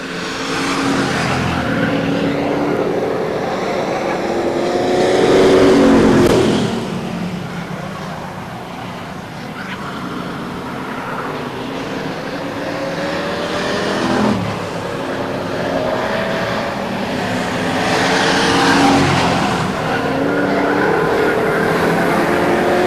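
Race cars roaring around the Stockton 99 Speedway oval, engines loud and continuous with swelling and fading passes as cars run side by side into a turn, with faint announcer talk underneath.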